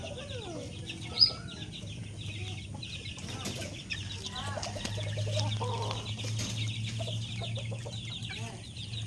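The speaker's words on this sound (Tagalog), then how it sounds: "ito po ang ilan sa ating mga manok dito" Several chickens on a small farm, including a white leghorn hen, cluck and murmur nearby in a steady, overlapping chatter, with a brief sharper squawk early on and a low hum beneath, just after rain.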